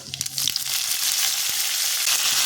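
Curry leaves drop into two spoonfuls of hot white oil with whole mustard seeds, bursting into a loud, bright crackling sizzle with a few pops early on, then holding steady.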